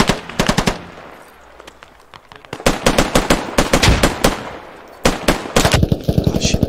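Loud, close bursts of machine gun fire in the military shooter game Squad, rapid repeated shots in several strings separated by short gaps.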